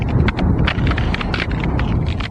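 Footsteps crunch across ice in New England winter weather in a quick, irregular rhythm, close and fairly loud, with wind rushing in the background.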